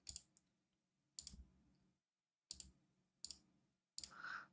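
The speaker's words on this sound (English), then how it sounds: "Lots of mouse clicking." A computer mouse gives bursts of sharp clicks in small clusters, separated by brief pauses and near silence, close and quiet.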